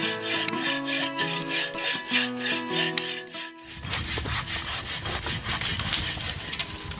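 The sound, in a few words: hand saw cutting into a tree trunk to fell it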